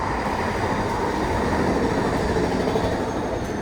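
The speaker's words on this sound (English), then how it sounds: "One second, the train coming." A Vancouver SkyTrain rumbles past close by, a steady broadband roar of wheels and carriages that holds loud and even throughout, with no voices.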